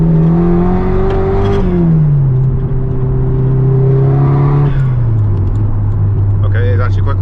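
A Nissan Sileighty on its first drive accelerates hard, its engine note climbing loudly through the revs, dropping at gear changes around two and five seconds, then pulling up again from close inside the cabin.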